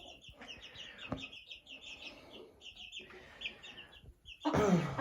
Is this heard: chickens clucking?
yes